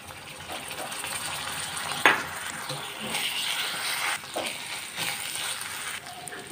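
Curry leaves and ginger garlic paste sautéing in a pan, a moderate sizzle broken by a sharp scrape and clatter early on, with intermittent stirring bursts.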